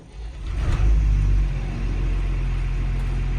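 Boat engines warming up at 25% throttle, a loud low rumbling idle that swells to a steady deep drone and holds there, close and continuous with no voices.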